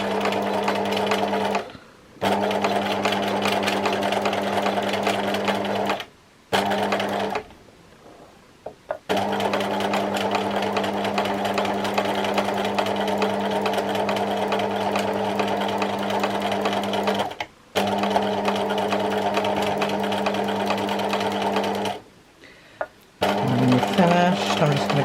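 A sewing machine stitching free-motion embroidery on a memorial quilt runs in long, loud, steady humming stretches, broken by a few brief pauses.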